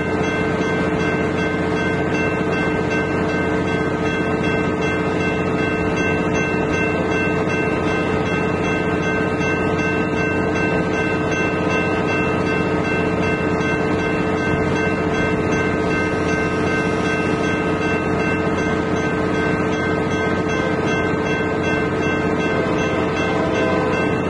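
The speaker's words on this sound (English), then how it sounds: "we caught a northbound UP stack train negotiating the crossover just south of East Main Street" A northbound Union Pacific double-stack freight train rolls over a crossover just south of East Main Street, a steady, loud, close rumble of wheels and cars that holds without a break for the whole stretch, with no voices.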